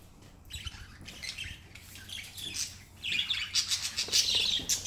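Many budgies chirp and tweet at once, a busy, overlapping chatter that grows louder and denser toward the end.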